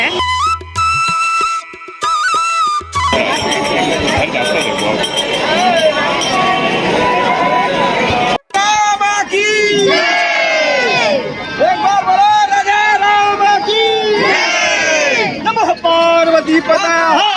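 A crowd of devotees surging through the opened gate at Ayodhya Ram Mandir, a loud, dense hubbub of many voices with shouts and cheering, close and continuous, with a brief clatter at the start.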